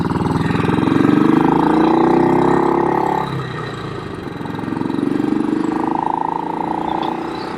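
A BSA Victor Special 441 big single-cylinder motorcycle engine runs steadily and loudly, with its pitch rising and falling as the throttle changes and a dip near the middle; a faint voice may sit underneath.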